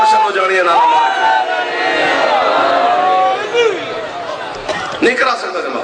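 A crowd at a majlis shouts a slogan together, a loud, dense mass of raised voices that rises and falls over several seconds.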